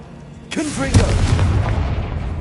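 A Confringo blasting-curse explosion in Hogwarts Legacy lands as a sharp burst followed by a heavier boom and a rumbling tail, while a voice calls out over the blast.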